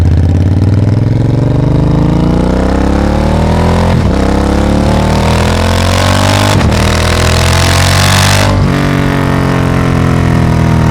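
A loud 2025 Triumph Speed Twin 1200 RS engine with a Hitchcox full-system exhaust, deep and throaty, revving up through rising pitch sweeps with brief gaps at gear changes, steady and close throughout.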